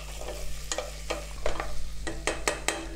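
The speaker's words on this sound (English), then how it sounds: "Make sure you put a little bit of oil in, just to stop it from catching on the bottom. And keep giving it a stir as well." Tomato relish cooks in a lightly oiled pan, a low steady sizzle broken by several distinct scrapes and knocks of a spoon stirring against the pan bottom, close up and without talk.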